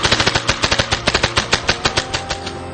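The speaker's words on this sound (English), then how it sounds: "in order to shoot the gun at a high rate of speed" A paintball gun fired rapidly by walking the trigger, a loud close burst of about fifteen sharp shots in fast, slightly uneven succession.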